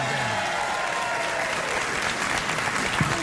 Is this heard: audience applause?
yes